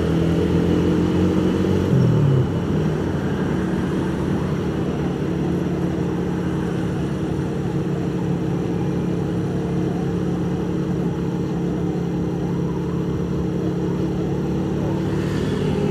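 Motorcycle ridden through Batam city streets at dusk, engine droning loudly and steadily for the whole stretch with a brief rise in pitch early on, wind and traffic rumble mixed in.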